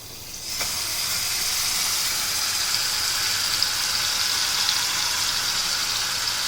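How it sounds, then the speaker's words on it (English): Masala paste hitting about a teaspoon of hot oil for Punjabi chole, a steady loud hiss and sizzle that starts abruptly and holds evenly throughout, with no talking over it. "And I'm going to put the masala paste into it."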